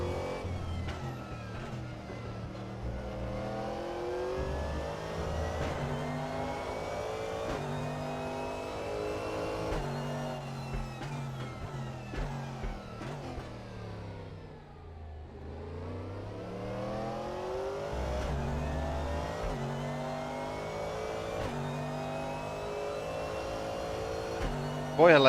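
A Corvette race car in RaceRoom revs and accelerates through repeated gear shifts, its engine pitch climbing, falling and climbing again, close and continuous, with a voice speaking over it at times.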